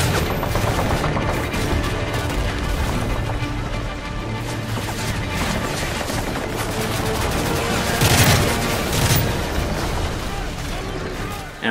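Heavy combat in Call of Duty: Modern Warfare 3 on Xbox 360, with grenade launcher fire and dense gunfire, booming blasts and rumbling explosions that stay loud and continuous, with someone talking over them.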